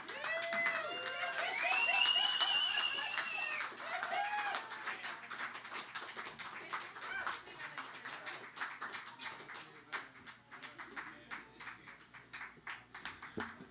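An audience at a storytelling event applauds a performer, a sustained, fairly faint patter of many hands at some distance, with whoops and voices rising over it early and the clapping slowly thinning.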